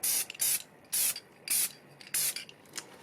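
An aerosol can of Triple Thick acrylic sealant hissing in five short bursts, each about a quarter second, separated by brief pauses, close and fairly loud.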